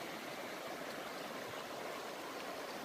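A river flows steadily on a calm morning during fly fishing, a continuous broadband rush of running water, close and fairly loud with no breaks.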